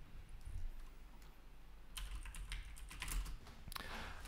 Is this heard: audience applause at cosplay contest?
no